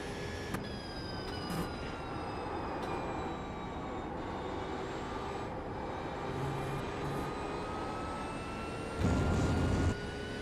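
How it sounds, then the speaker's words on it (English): Porsche GT3 race car engine in a sim racing game at Magny-Cours, a steady high-pitched howl that rises and falls slowly through the gears, with a short louder, rougher burst near the end. "I also like the Porsche sound."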